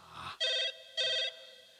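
A telephone rings in a Hindi comedy film, two loud, bright electronic ring bursts with a short pause between them, close and clear against a quiet room.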